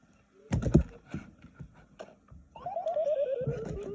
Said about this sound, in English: It's hard doing it on the keyboard.